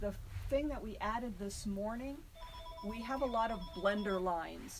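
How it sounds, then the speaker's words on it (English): A telephone rings in the background of a fabric shop, a steady electronic ring tone running beneath someone talking close to the microphone. "sorry about that phone recording in the background"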